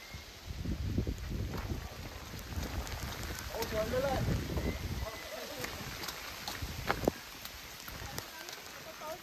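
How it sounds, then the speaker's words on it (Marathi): Heavy monsoon rain pours steadily at Kenjalgad Fort in Maharashtra, a dense continuous hiss of drops on surfaces, loud and close, with a person talking over it for the first half. "बघा पाऊस बघा किती आहे. सगळीकडे फक्त पाऊसच पाऊस आहे"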